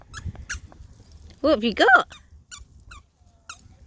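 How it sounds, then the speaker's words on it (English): A squeaky toy held by a 9-week-old Springer Spaniel puppy gives several sharp squeaks, with a brief run of loud squeals in the middle and a few short ones after, while a person speaks nearby. "He likes that because it squeaks."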